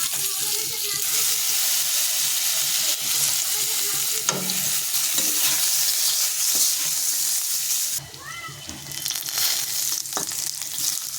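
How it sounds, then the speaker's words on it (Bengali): Eggplant pieces frying in oil left from frying fish, with a loud, continuous close-up sizzle and scraping stirs, dipping briefly near the end before the crackle builds again. "বেগুনগুলো আমি একটু ভালো করে ভেজে নেবো"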